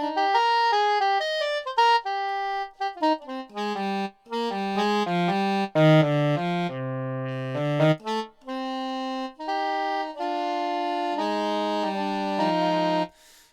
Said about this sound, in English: Never buy a keyboard to make a saxophone sound.